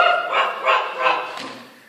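A performer imitates a dog barking with the voice during a stage melodrama: four loud, close yelping barks in an even rhythm, each with a rising-then-falling pitch, fading slightly at the end, with no other talk.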